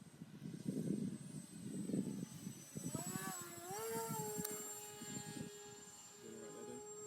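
A small remote-controlled airplane's electric motor whines and rises in pitch as the throttle opens for a climb, following a stretch of talk, heard at moderate distance outdoors.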